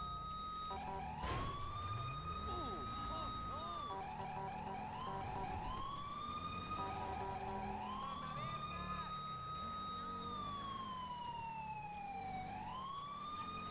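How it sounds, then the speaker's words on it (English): A police car siren wails continuously, rising and falling in long sweeps that change pattern partway through, loud and close over a low engine rumble. "Sirens sound so, so, so good."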